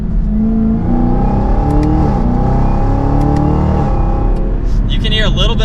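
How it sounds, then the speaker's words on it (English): A 2023 Chevrolet Camaro ZL1 drives with a loud, steady supercharged V8 exhaust drone and engine rising through the revs, a thin supercharger whine riding on top, with brief shifts. "You can hear a little bit of that supercharger whine, but you mainly hear that exhaust"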